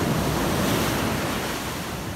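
Ocean waves wash and break on Culburra Beach at night, a continuous roaring surf with wind rumbling across the microphone, close and loud, with no voices.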